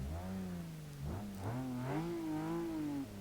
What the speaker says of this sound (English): Let's start the engine up,